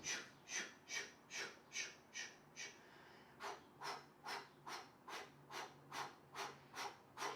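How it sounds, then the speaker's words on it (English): Rapid breathing through the mouth during a yoga core workout comes as about sixteen quick, rhythmic, close huffs, briefly pausing midway before resuming, with no talking. "Rapid breathing through the mouth."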